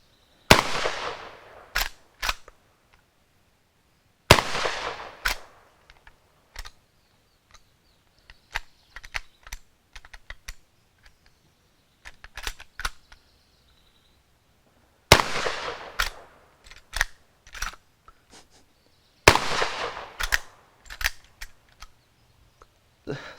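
Century Arms PW87 lever-action shotgun firing at an outdoor range, four loud booming shots spaced apart, each followed by echo and the clacks and rattles of the action being cycled between blasts.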